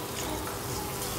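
Water poured into a simmering prawn chilli curry with kudampuli in a pan, a steady rushing, sizzling wash that fills the short moment at an even, fairly close level.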